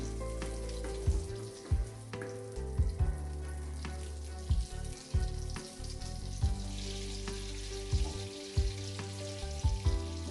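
Butter melting and sizzling in a pan while an Afghani omelette is started, a steady close frying hiss with irregular soft knocks and clatters of a utensil against the pan.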